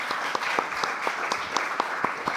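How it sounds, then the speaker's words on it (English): Applause for keynote speakers at a policy conference. A moderate crowd claps at a fairly quiet level, and separate sharp claps stand out against a softer wash of clapping. "big round of applause for our keynote speakers"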